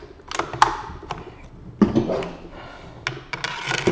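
Metal parts of a Century Arms C308 rifle's trigger mechanism being fitted into the receiver, several sharp close clicks and scraping knocks separated by short pauses.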